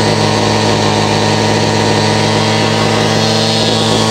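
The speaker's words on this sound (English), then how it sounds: "Weed Eater will not stop spinning for some reason" An Echo string trimmer engine runs too fast at idle, a loud steady two-stroke whine with a constant pitch and no let-up, the head still spinning with the trigger released.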